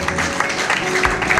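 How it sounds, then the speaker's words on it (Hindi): Audience applause at a welcome ceremony for an honored guest, a brief steady patter of many hands clapping at moderate distance, with faint murmuring in the background. "आइए थोड़ा सा तालियां बजती रहे तो अच्छा लगता है।"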